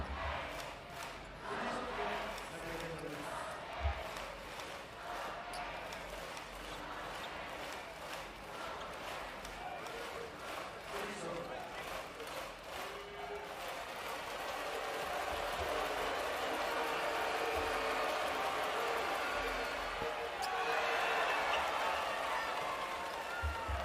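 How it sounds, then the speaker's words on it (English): A basketball arena crowd at a Japanese B.League game between the Koshigaya Alphas and Chiba Jets breaks into cheering after a missed free throw. A steady murmur swells into a broad, loud roar over the last several seconds. "Missed free throw there will bring cheers to the crowd"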